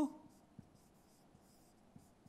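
A marker or chalk writes on a classroom board during a twelfth-grade chemistry lesson, with faint, soft scratching strokes coming in short intermittent taps at close range.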